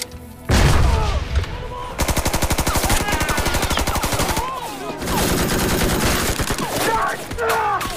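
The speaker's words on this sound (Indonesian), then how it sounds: "Granat tersebut meledak dan terjadi kembali kontak tembak antara kedua pasukan." Sustained gunfire with fast machine-gun bursts and a grenade explosion in a war film battle between American and German soldiers, loud and dense for several seconds with a brief lull.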